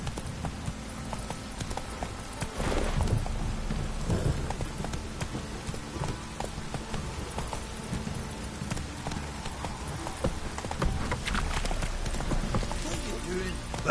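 Horse hooves from The Witcher 3: Wild Hunt clop in a steady galloping rhythm over a constant rain-like wash, mid-distance and even, while someone talks over the game sound.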